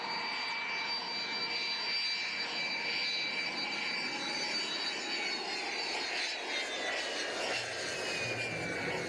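A fixed-wing airplane coming in to land at Guayaquil on the Ecuadorian coast, a steady, fairly faint engine roar with a high whine that slowly shifts pitch toward the end.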